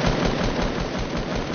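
A rapid burst of automatic gunfire from the battle royale game Fortnite rattles continuously and loud for the full short moment, with no talking over it.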